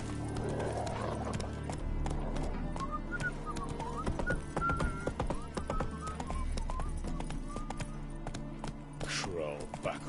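Roach the horse gallops through The Witcher 3 with steady clip-clop hooves and an occasional whinny, mixed under a dense game soundscape of music and voices that keeps running throughout.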